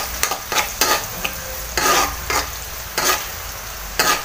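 Buttered seafood is stirred in a frying pan with garlic, a steady sizzle broken by repeated close scraping strokes of a spatula against the pan, roughly every half second to second.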